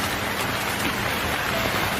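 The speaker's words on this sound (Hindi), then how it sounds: "बाहर इतनी बारिश हो रही है" Heavy rain pours steadily as a cartoon sound effect, a dense continuous hiss with no breaks and no voices.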